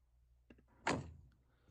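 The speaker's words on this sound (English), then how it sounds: "Enter and exit the vehicle." A truck door opens and closes once as a driver enters and exits the vehicle during a CDL brake test, with a single solid thunk near the middle, a softer click beforehand, and quiet surroundings.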